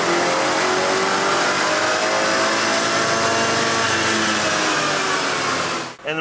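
A BMW 330i with the B48 engine, tuned on JB4 Map 1 with an IAT spoof and 91 octane fuel, revs hard on a dyno, rising in pitch as one loud continuous run that cuts off abruptly near the end.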